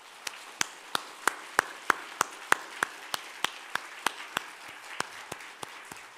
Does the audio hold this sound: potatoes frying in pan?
no